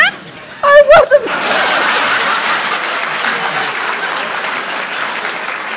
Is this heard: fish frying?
no